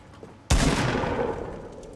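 A single loud, close gunshot in Fortnite, a sudden sharp blast after a quiet moment, followed by a long, gradually fading reverberant tail.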